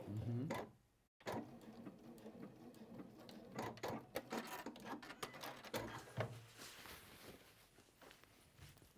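A sewing machine stitches down over an earlier line of stitching that marks out the corners, a steady close mechanical run with light ticking, and some voice mixed in.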